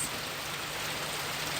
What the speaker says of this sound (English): heavy rain for a reading